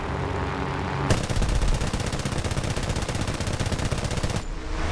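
An aircraft's machine guns in War Thunder fire one long, rapid, steady burst that starts abruptly, holds loud for over three seconds, then cuts off.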